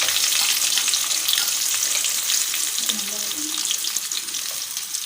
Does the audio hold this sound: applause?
no